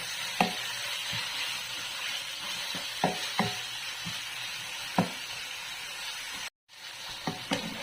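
Chicken simmering in coconut milk with shrimp paste is stirred in a pan, a steady sizzle running throughout while the spoon scrapes and knocks against the pan several times, close by and moderately loud.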